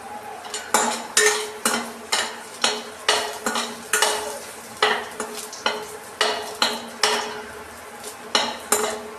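Chopped byadgi chili tossed and sautéed in a pan for sambar, with a steady run of about eighteen sharp spoon-on-pan scrapes and clinks over a soft sizzle, close and fairly loud.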